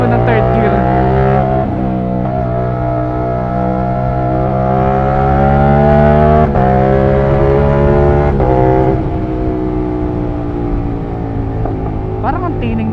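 A CFMOTO 450SR motorcycle with an upgraded sprocket runs in third gear, its exhaust a loud, steady drone with rising pitch between brief shifts, riding close without pause.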